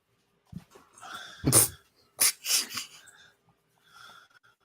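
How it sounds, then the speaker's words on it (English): Dogs making excited whimpers, snorts and short wheezy huffs in several close bursts separated by brief quiet gaps. "Don't get the dogs all worked up."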